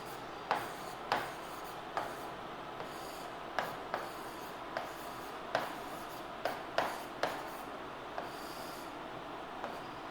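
Chalk or marker strokes on a classroom board during a geography lesson, heard as a series of short scratching taps in irregular bursts, close and moderately loud, with no talking.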